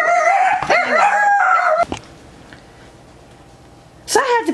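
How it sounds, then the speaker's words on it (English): Several dogs at home bark and howl loudly in a burst for about two seconds, then go quiet for a stretch before another sharp yelping outburst near the end. "my dogs went ballistic, as you could hear"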